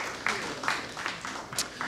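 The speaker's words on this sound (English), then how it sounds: "clap for Zach" Audience clapping for Zach at a Christian-versus-atheist debate event, a soft, steady patter of applause heard from a distance and fairly quiet throughout, with no one speaking over it.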